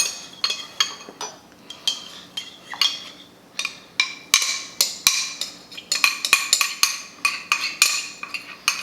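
Chicken wings being tossed in a garlic, honey and gochujang sauce, with rapid clinking and scraping of a utensil against a bowl in a steady stirring rhythm, close and fairly loud with no talk.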